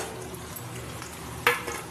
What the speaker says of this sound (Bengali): পেঁয়াজটা দিয়ে আবার কিছুক্ষণ ভাজা ভাজা করব